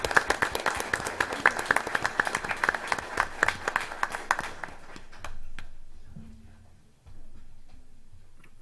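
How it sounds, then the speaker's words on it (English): Applause from the audience at a city schools board meeting, a steady patter of many hands for several seconds that thins out and stops, followed by quiet room noise. "Let's give her a round of applause."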